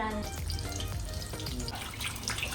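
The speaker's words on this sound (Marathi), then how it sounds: "स्वच्छ करायला पहिले मी याला पाण्यातून क्लीन करतेय" Raw prawns are rinsed in water, giving faint splashing, trickling and sloshing with small drips, close by and continuous over a short stretch.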